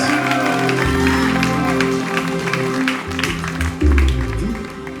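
Applause and crowd noise at an evangelistic open-air gathering in Grand-Rivière, a steady wash of clapping over a low rumble of music or voices, holding fairly loud throughout.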